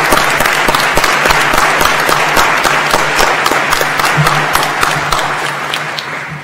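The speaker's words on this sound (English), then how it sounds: "I would like to ask our faculty to stand as we give them a round of applause once again to thank them for their hard work and dedication." A large commencement audience gives the standing faculty a sustained round of applause, dense clapping filling the hall for several seconds and easing off slightly at the end.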